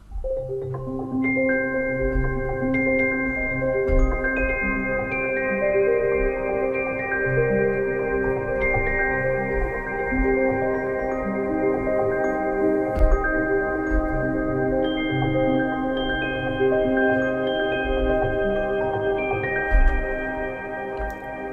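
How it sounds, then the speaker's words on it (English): Tinkly notes from two layered celestas in Komplete 14 ring out in a slow, layered melody, drenched in long reverb that lets each tone hang and blend. "it's just a couple of celestes, and it produces an absolutely fantastic sound"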